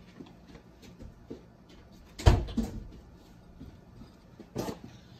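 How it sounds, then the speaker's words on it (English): A house door is pushed shut with a single dull thump, then a softer knock a couple of seconds later, amid faint background rustling. "I'm going to go close that door."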